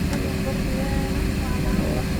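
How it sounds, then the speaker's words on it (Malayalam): An airplane coming in to land at an airport in Egypt gives a steady, loud broadband roar that fills the whole stretch without letup. "ആ ഉറപ്പ് വേറെ ഫ്ലൈറ്റ് വരുന്നതാണ് നേരെ വരിക"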